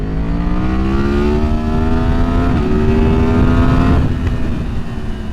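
A 2023 Yamaha MT-10 with a decatted Leo Vince exhaust revs hard, its rising engine note climbing steadily and loudly for several seconds with a brief shift near the end, close and dominant with no talk.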